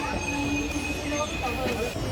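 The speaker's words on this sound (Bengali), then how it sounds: "ট্রেন ছাড়লো কলকাতা স্টেশন থেকে" A train pulls out of Kolkata station, its wheels squealing in long high metallic tones over a low rumble, brief and fairly close.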